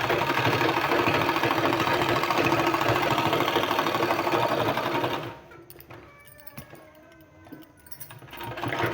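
A sewing machine stitching a sleeve seam runs steadily and loudly for about five seconds, a dense continuous mechanical whir, then stops, leaving quiet room noise with a few faint clicks.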